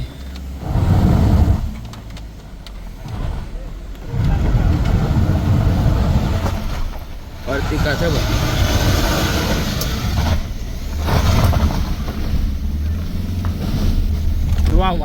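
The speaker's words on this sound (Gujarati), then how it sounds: "આ ભાઈથી ગાડી નથી ચડતી" A car engine strains on the steep Matheran ghat road, a heavy low rumble that rises and dips for several seconds while people talk over it.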